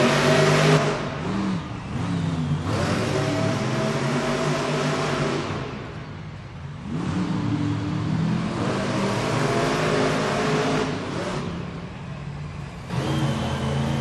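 Monster trucks race side by side in an indoor Monster Jam arena in Fresno, California, their big engines roaring and revving loudly in rising and falling surges over a constant din of crowd, echoing through the hall.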